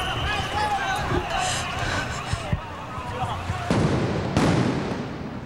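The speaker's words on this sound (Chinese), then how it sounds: "其中一个声音可以确定的是警方向车内投掷震撼弹" Police stun grenades are thrown into a hijacked tour bus in Taiwan, giving two heavy bangs about a second apart late in the stretch, over continuous rough background noise.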